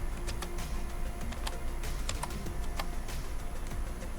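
Typing on a computer keyboard, quiet and close, with an irregular run of light key clicks and taps over a soft steady background.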